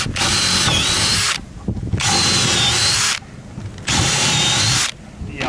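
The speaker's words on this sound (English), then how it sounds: "they're just your batten screws going in the side" Power drill driving 4.5 mm batten screws into wooden side verticals of a homemade archery target, three loud close bursts of whirring with short pauses between them, no talking.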